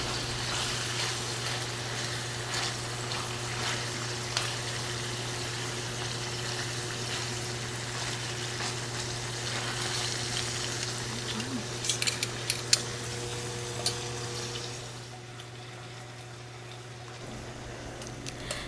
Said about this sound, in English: You just fry it a little bit on both sides, and because the meat is so thin, it doesn't take that long.